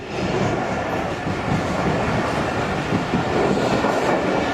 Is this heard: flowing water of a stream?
no